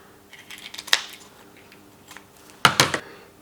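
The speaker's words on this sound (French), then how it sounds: "quand je vais couper, on va entendre ce cartilage qui va se casser." Scissors snip through the cartilage rings of a sheep's trachea during a dissection, giving two sharp, crunchy cuts about two seconds apart, close and distinct against a quiet background.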